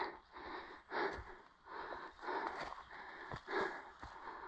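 Heavy, rasping breaths from someone pushing up a steep, rocky hiking climb on Hungary's National Blue Trail, rhythmic and close, with scuffing steps underneath and no speech.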